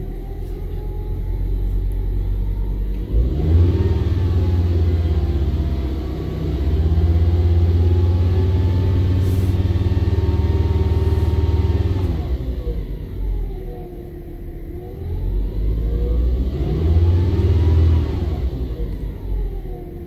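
A car engine revs up and holds at about 2500 to 3000 RPM for several seconds, drops back, then revs again, a loud steady rumbling drone close by, during a battery charging test.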